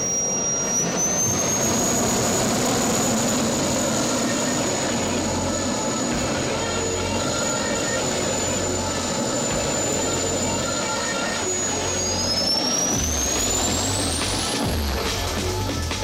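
A very loud jet-engined car with an afterburner roars continuously as it accelerates down a runway, a sustained whine rising in pitch near the end, with no talk over it.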